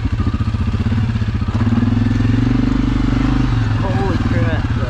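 A Suzuki KingQuad ATV engine runs in low gear on a trail, a steady low throbbing idle-like drone close by with a rider talking over it.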